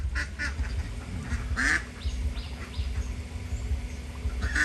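Laying ducks kept in a yard beside a house quack in short, repeated bursts, several calls overlapping at close range over a low, steady background hum.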